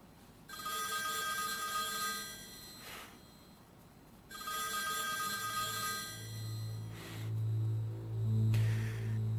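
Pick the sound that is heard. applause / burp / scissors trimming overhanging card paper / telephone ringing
telephone ringing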